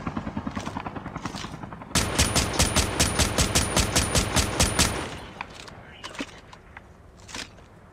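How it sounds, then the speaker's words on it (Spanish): In-game helicopter in Call of Duty Mobile battle royale, a loud rhythmic rotor chop pulsing steadily for about three seconds amid game noise, with players chatting before and after. "Alguien agarró el helicóptero."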